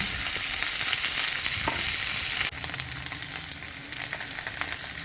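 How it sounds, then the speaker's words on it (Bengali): Drumsticks and flat beans frying in hot oil for a Bengali shukto, a steady close sizzle with faint stirring scrapes and a brief clack midway, no talk. "এরপরে সজনে ডাঁটা আর শিমগুলো তেলের মধ্যে ভেজে নেব"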